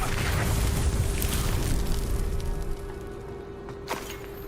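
A Glacius ice spell cast in Hogwarts Legacy, a loud bursting blast at the start that rumbles and fades over a few seconds, with a sharp crack near the end.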